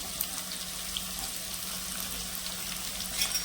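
Chopped onion and green chillies sautéing in a pan for whole masoor dal, giving a steady, quiet sizzle with faint crackles throughout and no talking.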